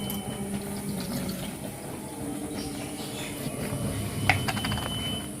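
Milk is poured into a bowl in a home kitchen with a steady, soft liquid trickle that runs for several seconds, quiet and close, with a faint background hum.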